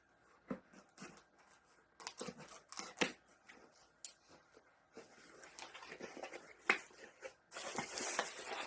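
Scissors snip and crunch through cardboard in irregular close-up bursts, with rustling and tearing as the box is worked open.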